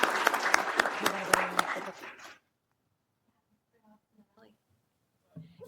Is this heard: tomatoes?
no